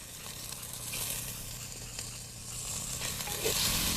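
Water left over from rinsing the spices is poured into a hot pan of frying masala, giving a continuous close hissing sizzle that swells slightly toward the end.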